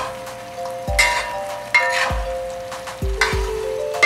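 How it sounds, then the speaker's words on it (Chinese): Sweet and sour pork ribs sizzle in a wok as the sauce reduces over high heat, with sharp clacks of a spatula stirring and scraping at intervals over a steady fry. "收汁的时候呢，火可以大一点。 但是要不停地翻炒。"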